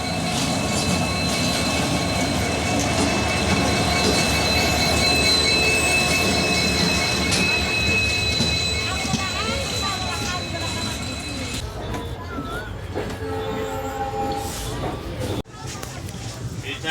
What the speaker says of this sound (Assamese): ফাইনেলি ট্ৰেইন আহি পালা। আৰু ট্ৰেইনখন ৰখিলে আমি এতিয়া ট্ৰেইনত উঠিব লাগিব।